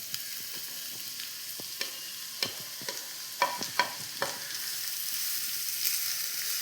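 Three long-sliced onions fry in a pan with a steady, soft sizzle while a spoon stirs and scrapes them, giving irregular clinks and knocks close by.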